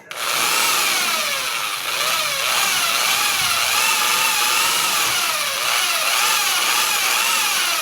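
An electric drill fitted as a mixer whirs steadily while stirring homemade dishwashing liquid, its motor whine loud and close, wavering slightly in pitch as the paddle churns, with no talk.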